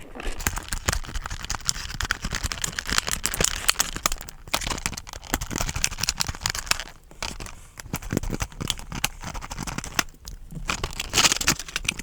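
Toy train packaging for a Bachmann Sodor Fruit & Vegetable Co. ventilated van being cut open and unwrapped, with irregular close crinkling, crackling and tearing of plastic and cardboard throughout, with occasional speech.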